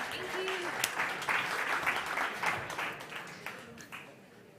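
An audience at a startup competition claps in a moderate wave of applause that swells and then tapers off, with a voice speaking over it.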